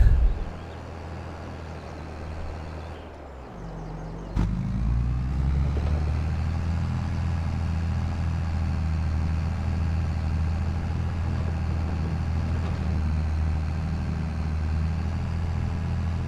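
A tractor engine in Farming Simulator 22 dips briefly, then kicks back up to a steady low rumbling idle-to-working drone that continues evenly, close and fairly loud, with no speech.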